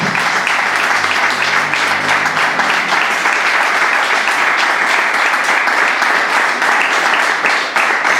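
A church congregation claps loudly and continuously, a dense, steady wash of applause that holds at full strength throughout.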